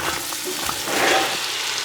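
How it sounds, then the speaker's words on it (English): Garlic hits a hot pan and sizzles in a soft, crackling hiss that swells briefly midway, close up with no talking. "You know that your pan is at the right heat when you drop the garlic and you hear a bit of that sizzle."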